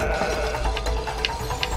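A sheep bleats in the video game It Takes Two, a few short, close bleats over a steady game background.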